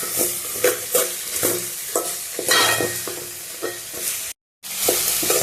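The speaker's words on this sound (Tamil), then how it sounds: "வெங்காயம் வந்து கொஞ்சம் ரொம்ப வதங்கக்கூடாது கொஞ்சம் கோல்டன் ப்ரௌன் கலரில் வர வரைக்கும் நம்ம இது பண்ணிக்கலாம்" Onions sizzle in a pan for a spicy tomato chutney, with repeated scraping stirs breaking a steady frying hiss, close and fairly loud, with a brief gap of silence.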